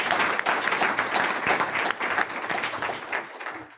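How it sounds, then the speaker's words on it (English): Audience applause breaks out for Brian Carlsen and West Coast Informatics at a terminology presentation, steady dense clapping from a room crowd that tapers off near the end. "please give a round of applause to Brian Carlsen and West Coast Informatics"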